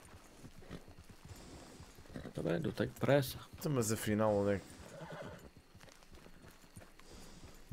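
A horse in the Red Dead video game gives a loud, close whinny midway through, with hoof clops around it. Someone talks in Portuguese before and after.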